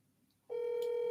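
A telephone being dialed gives a single sudden steady electronic tone that starts after a quiet moment and holds evenly, close and clear, with no talking.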